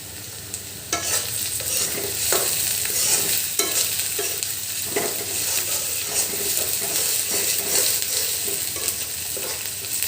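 Beef tripe and onions sizzle steadily in a pan while a utensil stirs them in repeated scraping strokes, with the frying hiss continuous and close throughout.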